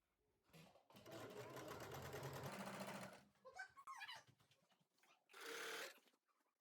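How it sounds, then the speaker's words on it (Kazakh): A sewing machine runs in steady bursts, stitching around the edge of a fitted sheet with elastic, its needle chattering close and clear between short pauses and soft fabric handling. "Осылай шетінен айналдырып тігіп аламын"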